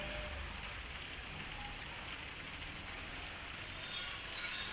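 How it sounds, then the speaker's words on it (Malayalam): The season's first light drizzle falls in Pune, a faint, even patter of rain on surfaces that stays steady throughout with no voices. "ഫസ്റ്റ് മഴ ചാറുന്നു എന്ന് പറയാം കേട്ടോ"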